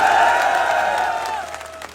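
Crowd at a Bhaichara Sammelan political rally in Chandpur, Bijnor, cheers and claps, with a sustained shout of voices and scattered whoops over applause that fades gradually.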